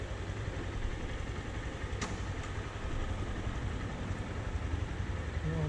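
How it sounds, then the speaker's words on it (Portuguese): Motorcycle engine idling in neutral: a continuous low, even rumble at moderate level, with a brief sharp click partway through and no talking. "Liga a moto, sempre de neutro, né, claro."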